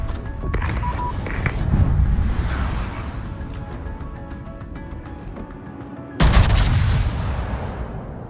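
Warship cannon fire in World of Warships booms in heavy, rumbling bursts, with a loud fresh salvo near the end over constant battle noise.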